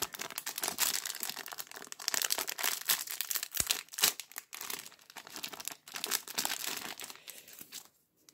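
A plastic MRE accessory package crinkles and tears open at its notch, with close, continuous rustling and sharp ripping sounds that fade out near the end.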